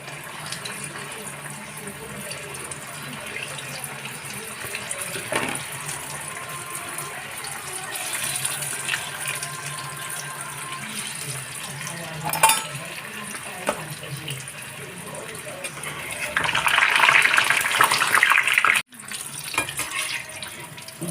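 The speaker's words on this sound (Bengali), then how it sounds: "এক এক করে তেলে ঢেলে দেবো।" Samosas are lowered one by one into hot oil, giving a soft continuous sizzle that swells into a louder, bubbling hiss with occasional clinks.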